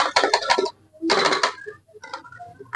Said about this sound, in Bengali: গুঁড়ো দুধটা গরম জলের মধ্যে ঢেলে ভালো করে গুলে নেব।